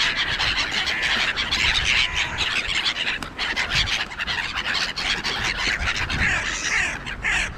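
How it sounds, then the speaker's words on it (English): Crows squawk and caw loudly at close range while squabbling over an egg at an outdoor feeding spot, with harsh overlapping calls and scuffling throughout. "Oh, one of the crows got most of the egg."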